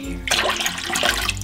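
Water gushes loudly into a large pot or container for making rock candy, a close splashing rush that starts abruptly and runs steadily to the end.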